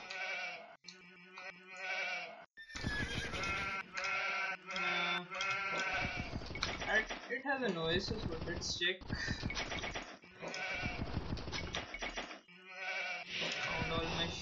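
Sheep bleat repeatedly in the Age of Empires real-time strategy game, short in-game animal calls mixed with game effects while a player talks over them.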